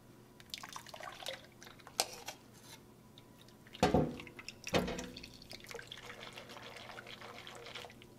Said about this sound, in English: We're gonna add some of our flour water blend slowly